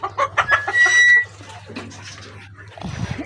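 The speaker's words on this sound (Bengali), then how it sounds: "এই যে আমার হাঁসগুলো কিন্তু হাউসের মধ্যে গোসল করে নিচ্ছে।" Ducks bathing in a water tank on a sunny rooftop farm give a loud burst of close quacking, then quieter calls and some splashing toward the end.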